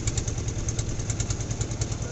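A small trawler boat on a river in Kushtia idles nearby, its engine thudding in a quick, even low rhythm with a steady mechanical buzz and no talk over it.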